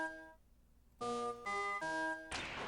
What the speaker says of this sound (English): Ring the doorbell so we can get back inside.